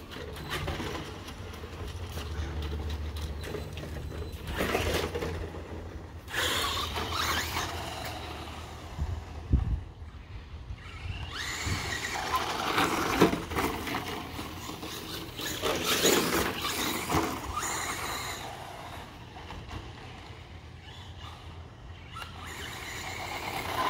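An ECX Torment RC truck fitted with new metal gears runs near the mic, its electric motor whining and surging in uneven bursts while the gears grind and crunch and the tires scrabble over the ground.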